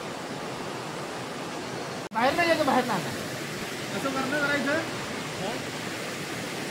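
Stream water flows down from upstream where a fishing net is set to catch fish, a steady rushing hiss running throughout beneath people talking, with the voices briefly rising over it.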